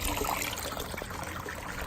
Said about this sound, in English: So there's the water that's flowing out.